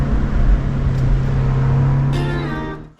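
A MINI JCW Convertible driven hard through tight mountain curves: a loud, steady engine drone with wind roar, the pitch holding and shifting slightly before a brief cut near the end.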